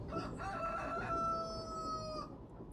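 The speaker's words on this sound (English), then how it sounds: "Some free roaming chickens." Free-roaming chickens in Farming Simulator 25, with a rooster letting out a long drawn crow over clucking hens, fairly close and loud, fading out near the end.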